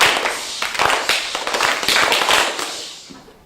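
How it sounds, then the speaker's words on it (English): A class of schoolchildren claps together on a count of three, a loose, ragged burst of many small hands slapping at once, slightly uneven, ringing in a room and then trailing off into scattered claps. "All right, everybody, let's clap it."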